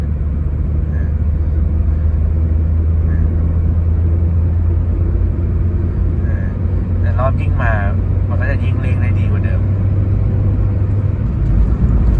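Toyota Yaris 1.2 fitted with a swapped 1NZ engine and manual gearbox, accelerating on the road: a steady, loud low engine drone and road rumble fill the cabin throughout, with brief faint clicks or rattles near the end.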